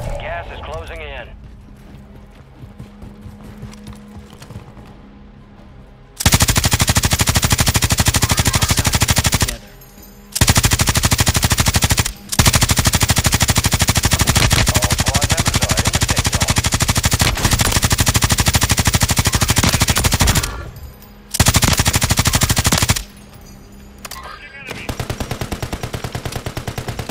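A Pulemyot machine gun fires in a battle royale video game, loosing long, loud, continuous automatic bursts separated by brief pauses, with game voice lines heard over the action.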